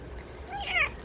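A pet cat meows in a small car, a short rising cry over a low engine and road rumble.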